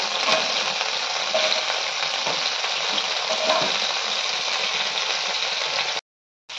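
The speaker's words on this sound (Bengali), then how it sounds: "সেই তেলেই এবার পেঁয়াজ কুচি দিয়ে দিলাম" Chopped onion sizzles steadily in hot oil left from frying, with occasional stirring clatter. The dense hiss stays loud and continuous before cutting out abruptly near the end.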